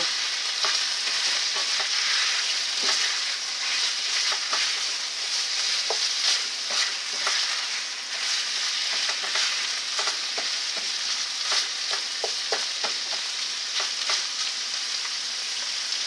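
Ground meat browns and sizzles in a pan for a deep dish pizza, a steady loud frying hiss with frequent crackles and pops running the whole way through, close up, with no voices.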